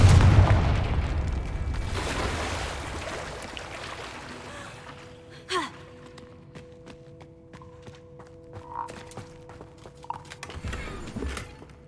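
A Confringo blasting spell explodes in the Hogwarts Legacy video game, with a heavy boom at the start that fades into a long tail, then scattered game effects, tonal chimes and a few smaller thuds.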